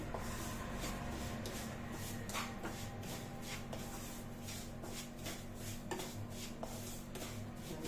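Semolina (sooji) dry-roasting in a pan over a low gas flame and stirred steadily, giving soft repeated scraping and rustling strokes, close and quiet.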